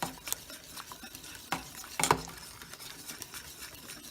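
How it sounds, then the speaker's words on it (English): A cornstarch slurry being stirred into stock in a pot, with intermittent scraping and clinking strokes of a utensil over a soft background hiss, close and fairly quiet, no speech. "I'm going to add this slurry to my stock, and then I'm going to stir."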